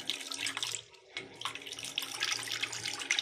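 Water runs from a repaired angle valve faucet, a near, hissing splashing stream that briefly cuts off about a second in, then resumes and keeps flowing steadily.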